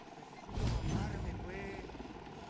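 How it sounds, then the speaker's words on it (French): Helicopter in the video game Ghost Recon Wildlands, a rumbling rotor drone under a player's talk, swelling briefly then holding steady at moderate distance. "Un hélico à plein ventre."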